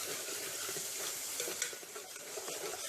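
Curd (yogurt) sautéing in a pan for a hotel-style white kurma, giving a steady close sizzle with soft stirring scrapes throughout, no talking.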